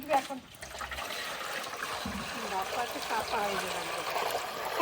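Water trickles and splashes steadily into a pot, a continuous pouring sound with faint voices and kitchen noise in the background.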